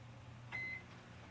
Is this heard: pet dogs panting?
no